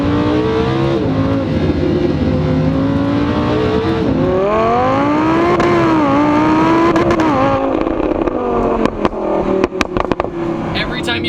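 A Lamborghini Huracan engine revs and pulls hard in second gear, its pitch sweeping up and down continuously at close range, with an occasional voice over the engine note.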